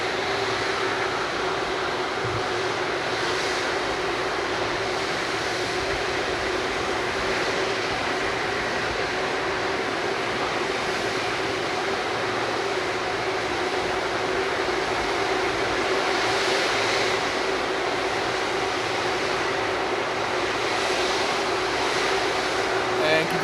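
An Airbus A330 takes off at Frankfurt Airport on a winter morning, a steady, distant jet roar holding for over twenty seconds without a break.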